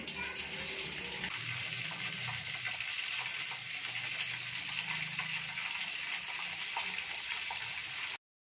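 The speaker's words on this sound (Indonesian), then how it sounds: "ini minyaknya udah panas, kita goreng" Patin catfish frying in hot oil, a steady loud crackling sizzle throughout with a deeper bubbling layer as the fish settles in, ending abruptly.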